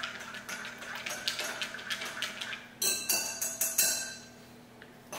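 Party bread being stirred with garlic salt in a bowl, giving a quick run of light clinking and scraping taps, faint at first, then a louder burst near the end.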